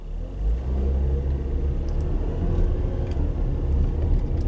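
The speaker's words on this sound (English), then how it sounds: "we'll take it for a little test drive and watch our data" Honda car with VTEC and VTC systems on a test drive, a steady loud low engine and road rumble heard from inside the cabin, continuous and unbroken with no talking.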